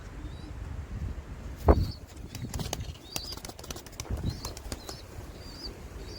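Racing pigeons in a loft, with bursts of wing flapping, scattered soft coos and light scuffling, heard close by.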